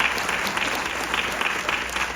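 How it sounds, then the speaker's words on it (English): An audience at a New York Film Festival talk bursts into steady, dense applause that carries on throughout, fairly close and loud, with no voices above it. "And can we applaud her for that?"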